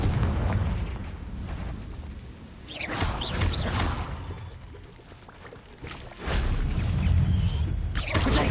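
Confringo spell blasts in the Hogwarts Legacy video game on PS5, loud rumbling explosive bursts with crackling debris, one swelling near the start and a heavier blast near the end, continuous and without talking.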